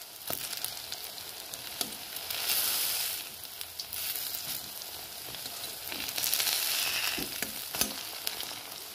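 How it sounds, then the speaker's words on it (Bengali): Pressed mashed food frying in oil in a kadai, a steady close sizzle with soft crackles and occasional sharp pops and spatula scrapes, running continuously with no talk. "এইভাবে চেপে ভালো করে এপিট এপিট করে লাল লাল করে ভেজে নেবো।"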